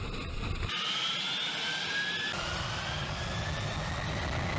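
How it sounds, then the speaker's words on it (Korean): A German cargo airplane's jet engine blasts during a thrust test, a loud steady roar with a whining tone that shifts partway through, heard from nearby with no voices. "독일의 화물항공 비행기 엔진 바람이 얼마나 강력한지 테스트해보는 중인데요"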